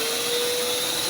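Powerful special blower feeding a furnace chamber whose fittings have partly melted, roaring as a steady, loud, close broadband rush with a faint whine riding over it, unbroken for the whole second.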